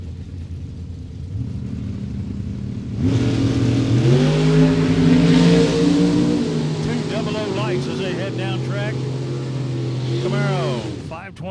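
A Camaro drag race car launches at a Super Pro drag strip, its engine roaring loud and close as it accelerates hard down the lane, with rising, shifting engine tones and the rumble of other cars over a steady crowd ambience.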